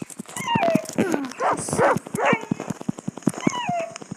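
Dog barks and yips in the Roblox-style game 99 Nights in the Forest: a rapid run of sharp, close barks with whimpering and yelping tones, separated by short rhythmic clicks.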